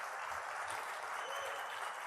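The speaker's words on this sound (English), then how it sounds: "I'd like to give them a quick round of applause" A conference audience gives a full, sustained round of applause, a steady wash of clapping through the whole moment with a few faint voices mixed in.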